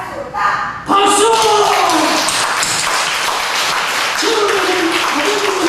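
A church congregation breaks into loud applause during a Sunday service, dense clapping starting abruptly after a short spoken lead-in and continuing steadily, with voices speaking and calling out over the clapping.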